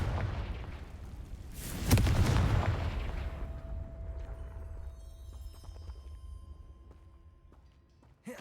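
A Confringo explosive spell goes off in Hogwarts Legacy as a single loud, deep booming blast with a rumbling low tail that fades slowly, followed by faint clicks and tones.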